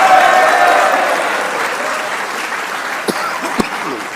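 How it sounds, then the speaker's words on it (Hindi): Applause from an audience of Pakistani cricket fans and journalists after an India versus Pakistan match, a steady wash of clapping that eases slightly, with a couple of sharp louder claps near the end. "एक बार इस परफॉर्मेंस पे शाहीन के लिए तालियां होनी चाहिए"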